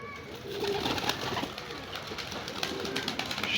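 Pigeons coo repeatedly on a rooftop where young birds are being trained to fly out, with a low murmuring coo over light outdoor background noise and some faint other calls.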